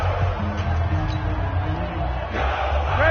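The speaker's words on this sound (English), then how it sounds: "the crowd getting into it as we come up on a big 3rd down" A football video game played on PS4 carries a steady stadium crowd roar with swelling cheers. It is continuous and fairly loud throughout, with faint commentary mixed in.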